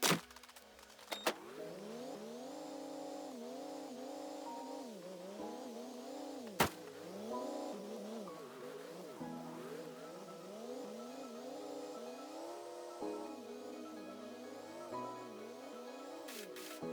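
A car drives through woods in the video game Project Zomboid, its engine droning and shifting pitch as it speeds up and slows, with a few sharp knocks and thumps along the way and no talking.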